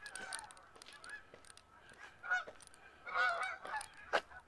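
Geese honk in a park along a city avenue in Regina in November, several loud bursts of honking in irregular clusters, fairly near, with no speech.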